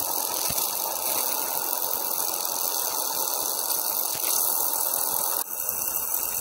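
A DC-powered ratchet 'electric rocket' device fed about a kilowatt of power spins with a steady, close, continuous whirring hum and faint rattle, holding level throughout with a slight shift near the end.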